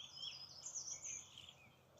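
Small birds sing outdoors along a snowy hiking trail in the French countryside, with high chirps and twittering phrases, fairly faint and distant against quiet surroundings, no voices.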